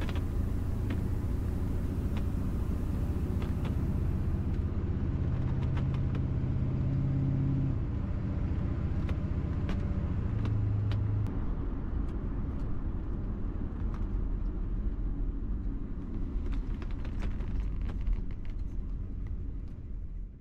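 A truck converted to a Duramax diesel engine cruises along a road in Montana, giving a steady low drone and road rumble heard from inside the cab, with a few brief tonal shifts and no talking.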